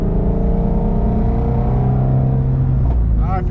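A Ford Shelby GT350 engine revs steadily higher toward its 8,000 RPM red line, a loud, rising, continuous wail heard from inside the car. It drops off abruptly near the end as voices come in.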